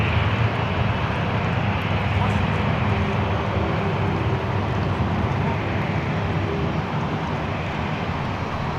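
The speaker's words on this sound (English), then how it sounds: "we've got another Air New Zealand on the move, by the way. So looks like a 321 Neo coming past" An Air New Zealand Airbus A321neo taxis past at Sydney Airport, a loud, steady broadband jet engine rumble and whine filling the whole stretch, with talk faintly underneath.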